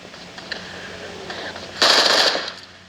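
Automatic gunfire in the mobile battle-royale game PUBG Mobile: a loud, dense burst of rapid shots erupts near the end and then fades, over quieter ambient game noise before it.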